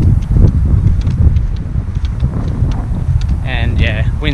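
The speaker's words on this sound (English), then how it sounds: "wind's heavily into face" Strong headwind buffets the microphone on a golf course at a 310 to 320 metre par four, a steady low roar running throughout, with a short whistling tone near the end.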